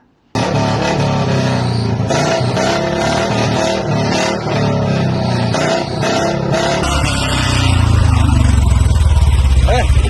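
A modified Royal Enfield Bullet motorcycle engine thumps loudly and continuously amid a busy roadside scene, rising into a stronger, louder drone toward the end, with voices and street noise mixed in.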